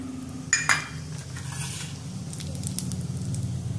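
Cumin seeds dropped into hot oil in a pan for a tomato egg curry, opening with two sharp metallic clinks of a spoon, then a soft continuous crackling sizzle close by.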